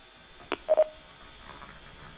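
Telephone keypad tones on a call-in show, one short tone and then a quick pair of beeps in the quiet, with no voices.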